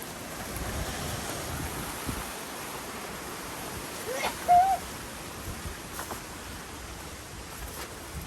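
Cold wind blowing across an open outdoor spot, a steady broadband rush with a brief tonal squeak near the middle, moderately loud and continuous, with no one speaking.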